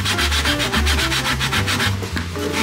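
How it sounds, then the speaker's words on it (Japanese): Steady back-and-forth rasping of a handsaw cutting through MDF board, rhythmic strokes close by with a low motor-like hum underneath. "今度は選手交代電気おじさんが MDF 材を切断します"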